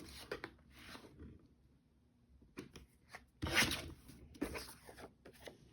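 A paper trimmer makes a 4-inch cut through a photo for a scrapbook page, with short quiet rasping slides and scrapes in several separate strokes, close and soft, with no talking.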